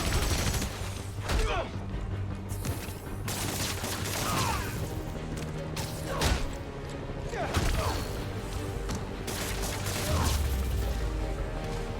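Rapid bursts of gunfire crackle through a street shootout in the Spider-Man: Miles Morales video game, repeated volleys over a dense layer of mechanical clatter and game sound, with voices shouting.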